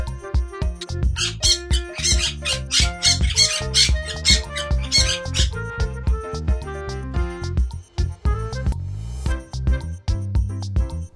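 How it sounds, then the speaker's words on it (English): A parrot lets out a run of shrill, rapid squawks, loud and close, set over steady background music that carries on after the calls fade. "parrot"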